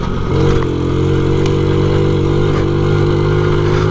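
A 1993 Honda Z50R mini motorcycle rolling along in third gear, its small engine droning steadily and loud at a constant pitch with faint clatter, heard up close without any talking.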